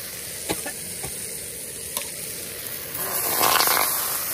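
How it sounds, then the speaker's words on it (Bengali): Ginger garlic paste frying in a pan while it is stirred, giving a steady close sizzle with a few soft scrapes that swells louder near the end. "এবার এতে 1 চামচ 2 চামচ আদা রসুনের পেস্ট ভালো করে নেড়ে নেবো।"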